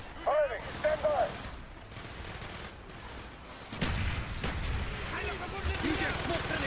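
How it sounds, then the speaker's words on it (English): Mortar blasts and gunfire in the Call of Duty: Black Ops video game, with a heavy broadband boom midway and scattered shots, under shouted voices and game dialogue. "Firing, mortar."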